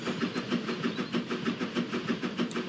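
A rhythmic, mechanical chugging pulses steadily and evenly, heavy and close, like an engine working under a load of logs, with no talk.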